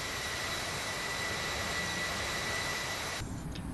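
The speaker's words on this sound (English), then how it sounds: "and I will also manually fly the airplane" An airliner's jet engines drone in a flight simulator game during a manual climb toward 10,000 feet in strong winds, a constant broadband roar with faint steady whine that drops away abruptly near the end.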